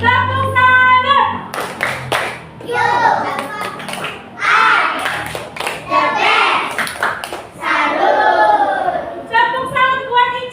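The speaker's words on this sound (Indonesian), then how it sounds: "Tepuk tangan." A classroom of children claps in quick, rhythmic bursts that come and go, mixed with lively children's voices and an adult speaking over them.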